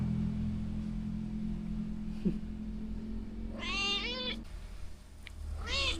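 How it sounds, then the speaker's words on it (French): Close, loud cat meows at a cat-boarding house in Batukaras, Indonesia: one long drawn-out call followed later by a second, over a low steady hum with no talking. "Oh, mais il y en a un qui miaule là."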